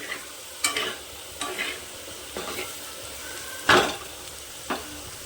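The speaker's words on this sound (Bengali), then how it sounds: "এই দেখুন আমার পেঁপেগুলো কি সুন্দর লাল লাল করে ভাজা হয়ে গিয়েছে।" Papaya pieces frying in a pan, heard as a soft sizzle with about six sharp scraping stir strokes at uneven intervals, each one bringing a brief burst of louder hiss.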